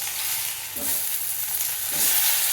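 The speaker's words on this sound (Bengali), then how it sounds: "এবার শুকনো লঙ্কা আর কালো জিরে ফোড়ন দেব। একটু নেড়ে নিলাম" Dried red chillies and nigella seeds sizzle steadily in hot oil after frying fish, a bright continuous crackle with a couple of soft scraping stirs of a spatula in the pan, and no one talking.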